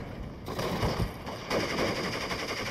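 Machine gun fire in Steel Division: Normandy 44, a WWII Normandy battle, with sustained rattling bursts that thicken after a brief lull, loud and continuous against distant battlefield rumble.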